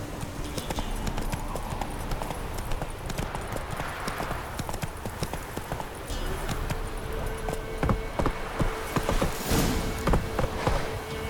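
Roach, Geralt's horse in The Witcher 3, gallops with fast, continuous hoofbeats close and loud, while insect-like buzzing and ambient game sounds drift in behind the pounding rhythm.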